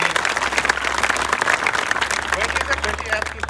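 Loud applause from a crowd at a school, honouring the staff and their head, with a dense patter of many hands clapping continuously, voices mixed in underneath.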